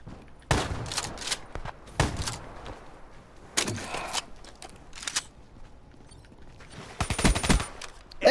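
Gunfire in a Call of Duty: Black Ops III multiplayer match, short bursts of shots spaced a second or two apart, moderately loud over quiet background, with a denser burst near the end.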